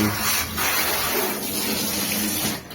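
Dirty water gushing out of an old household water heater boiler being drained, a loud continuous rushing splash that holds steady for the whole moment, close to the microphone with no talking.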